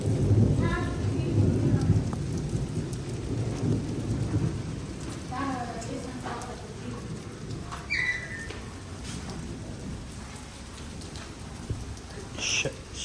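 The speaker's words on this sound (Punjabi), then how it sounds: "ਬਾਰਿਸ਼ ਪੈਣੀ ਸ਼ੁਰੂ ਹੋ ਗਈ ਜੀ।" Heavy rain pours down steadily in a village, with thunder rumbling in the background and a few brief chirps and bird calls.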